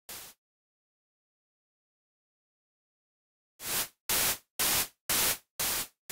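White noise from an oscillator in Native Instruments Massive X synth, gated by a performer modulator: one short hiss, a long silence, then five evenly spaced bursts of harsh static, fairly quiet.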